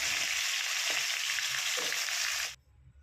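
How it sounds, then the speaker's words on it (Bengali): Pieces of boal fish fry in hot oil with a loud, dense, even sizzle that runs for about two and a half seconds and then cuts off abruptly. "তার মধ্যে তেল গরম বসিয়ে দিয়েছি বড় মাছগুলোকে সকলে ছেড়ে ভেজে দিচ্ছি"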